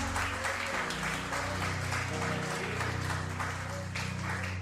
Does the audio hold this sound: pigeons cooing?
no